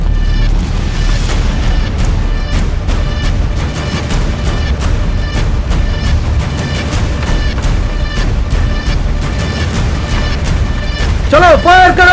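Sustained gunfire and artillery booms from a Hindi-dubbed Hollywood action film, a loud dense barrage of shots and blasts running throughout, with voices speaking over the battle.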